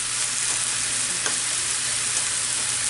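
Steak slices for a Philly cheesesteak sizzle and fry steadily in a pan, a dense continuous hiss that stays loud and close throughout with no voices.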